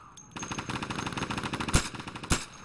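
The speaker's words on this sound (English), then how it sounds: "I'm getting shot!" Rapid automatic gunfire in the video game Insurgency, a sustained rattling burst of shots with two louder, sharper cracks standing out near the end, close and loud with no talk.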